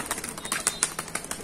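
Pigeons of a fine breed kept for sale take off together, a quick fluttering burst of wingbeats with soft papery flaps, fairly faint and close, with no talk over it.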